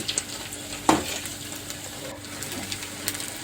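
Raw banana bajjis deep fry in hot oil with a steady, soft bubbling sizzle, broken by a brief louder splash or stir near the start, and no voices.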